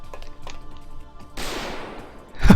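A loud shotgun blast in the video game PA3 bounty mode, shooting at the Brahman and Eve fight, booms once with a decaying tail, followed by another sharp blast at the end.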